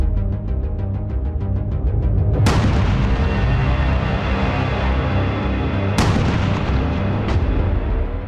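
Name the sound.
Chinese coil gun being test-fired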